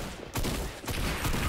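Rapid gunfire in the video game Fortnite, a dense burst of shots filling the clip loudly and continuously with a short break partway through.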